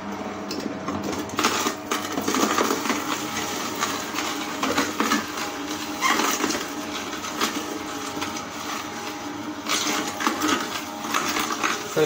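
Kuvings cold press juicer running on apple, beetroot and carrot, a steady close mechanical grinding and crunching that continues throughout with small irregular cracks and rattles.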